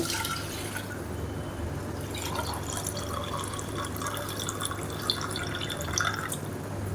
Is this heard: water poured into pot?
yes